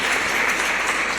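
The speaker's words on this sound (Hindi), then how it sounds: "और एक बार जोरदार तालियां बजाएं सर" Loud, dense applause from an audience at a school quiz contest event, continuous hand clapping with no gaps over a short stretch.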